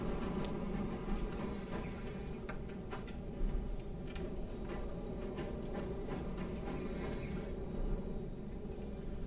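Food freight train running in the Transport Fever 2 game, a steady rumble of wheels with rhythmic ticking clatter over rail joints and faint squeals, heard continuously without talk.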